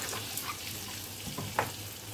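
Vegetables grill in a pan with a cube of butter and a little corn or olive oil, a soft, steady sizzle broken by a few faint clicks of stirring.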